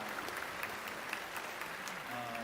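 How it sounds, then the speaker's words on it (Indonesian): Soft, steady clapping from an audience at an Indonesian public forum with teachers, heard at a distance as a continuous wash with faint voices underneath. "Tepuk tangan dulu untuk Mbaknya"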